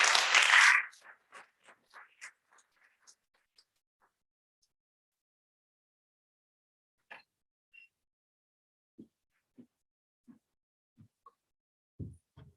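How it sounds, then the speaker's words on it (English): At a general surgery conference session, a short burst of audience applause fades almost at once into a few scattered, isolated claps spread over the following quiet seconds. "So round of applause, please."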